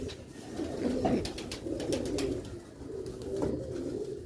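Sialkoti rooftop pigeons coo softly in low, rolling phrases that repeat several times, close but quiet against a faint outdoor background.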